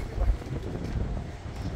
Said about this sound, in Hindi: क्या हवा चल रहा है